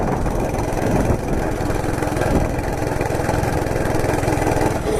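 A Monter Moto MMB80 gas minibike runs with a steady, close engine drone and a continuous mechanical rattle from the clutch.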